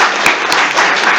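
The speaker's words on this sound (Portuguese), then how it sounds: "vamos dar palmas pro Edil" A study-group audience claps for Professor José Edil Guimarães in a brief, loud round of close applause with a few distinct sharp claps.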